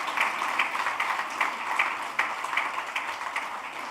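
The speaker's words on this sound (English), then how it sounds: "give a resounding round of applause to Zenith Bank" Steady audience clapping fills a hall at an international trade seminar, saluting a bank sponsor with dense, even applause heard at a moderate distance.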